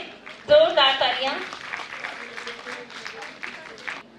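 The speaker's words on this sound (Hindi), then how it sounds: "तो ऐसी बच्ची के लिए जोरदार तालियां।" An audience at a women's event, Women Power 2021 for International Women's Day, held by the Rajasthan Jain Yuva Mahasabha, claps in a burst of applause that swells quickly and then tapers off. Voices can be heard in and under the clapping.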